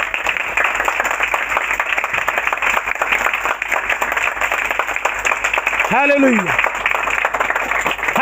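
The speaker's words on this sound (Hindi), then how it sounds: "यीशु के जलाल के लिए जोरदार ताली बजाएं।" A church congregation claps loudly through a Christmas sermon, dense steady applause filling the whole stretch while a preacher's voice calls out over it.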